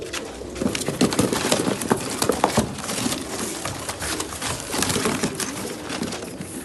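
Arab pigeons, likely a group in a loft, give soft intermittent coos and wing flutters alongside scattered scuffling and clatter, steady and fairly close.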